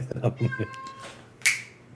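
A cat, twenty years old, meows clearly, several short close calls followed by a louder, sharper cry near the end, with faint background sounds.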